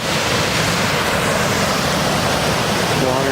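A waterfall on the Jenkinson Lake loop trail roars with running water, a loud, dense, continuous rush filling the whole clip, while a person briefly speaks near the end.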